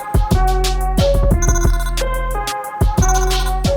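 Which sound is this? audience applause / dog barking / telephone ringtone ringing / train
telephone ringtone ringing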